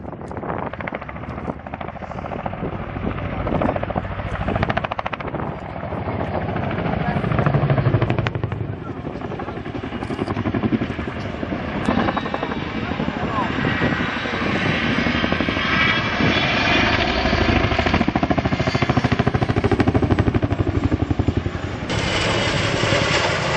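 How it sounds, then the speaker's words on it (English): An RAF Chinook twin-rotor helicopter flies a display at Cosford air show, its heavy thudding rotor beat and turbine whine swelling and shifting as it maneuvers overhead, with an announcer's voice heard over the loud aircraft noise. "Please welcome the 2013 Chinook Display Team."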